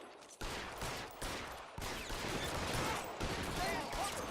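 Gunfire in the L.A. Noire video game arrives as bursts of rapid shots and sustained volleys, loud and dense, with short gaps between salvos and no audible talk.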